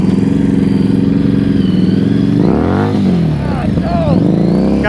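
Motorcycle engine idling and revving unevenly during slow-speed riding practice around cones, loud and close, with people talking over it.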